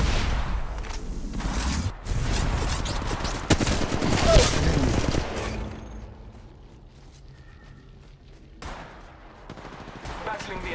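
Gunfire in the mobile battle royale game Apex Legends Mobile: dense rapid bursts and shots over the first five seconds, then quieter mechanical clicks and a short burst near the end, with some voice in the mix.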